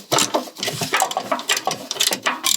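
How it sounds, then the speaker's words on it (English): Ratchet wrench loosening bolts on a Land Rover LR4 diesel during a fuel filter change, giving rapid, close clicking bursts in short repeated runs with no talking. "And now I will remove these 3 bolts, and then we should have access to the diesel filter"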